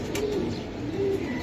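Giribaz pigeons coo nearby, low rolling calls repeated twice over a steady background hum, with no voices.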